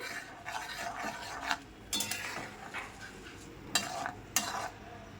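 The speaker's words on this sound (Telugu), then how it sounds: "ఎండుమిరపకాయలు, ఆవాలు చిట్పట్లాడేంత వరకు వేయించేసుకోండి చక్కగాను" Dry red chillies and mustard seeds fry in sesame oil. A soft sizzle runs throughout, broken by intermittent stirring scrapes and a few sharp clinks of a utensil against the pan.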